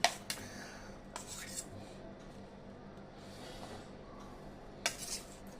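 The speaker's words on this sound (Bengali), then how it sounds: "এইবারে দেখো এই ফলগুলো এটার সাথে মিশিয়ে দেব কিছুটা।" A spoon clinks and scrapes quietly against a bowl as fruit is mixed into nabanna, with a few sharp taps at the start and end and a soft, muted stretch between them. No one speaks.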